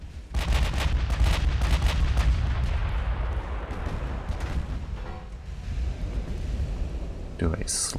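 Warship main guns firing in the naval battle game Ultimate Admiral: Dreadnoughts: heavy artillery booms and a loud, dense rumble of gunfire that carry on steadily while someone talks over them.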